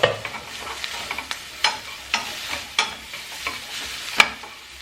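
Peppers frying in a pan on a home stovetop, a steady close sizzle with frequent light scrapes and taps of a stirring utensil, one sharper clack near the end.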